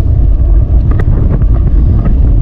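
Strong sea wind buffets a small fishing boat out at sea, a loud, constant low rumble of gusts on the microphone with faint knocks of the hull mixed in.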